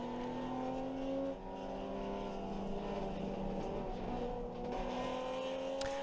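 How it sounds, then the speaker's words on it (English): A race car engine holds full throttle through a turn, its loud, steady drone varying only slightly in pitch, with no talk over it. "I am full throttled through that turn. I don't lift."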